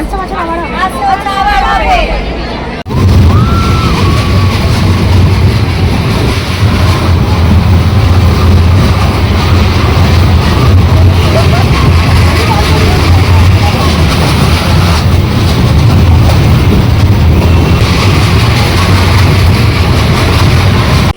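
Dragon train ride at a fair, a loud continuous rumble and clatter of the moving ride with a busy crowd hubbub throughout, following a few seconds of closer talking at the start.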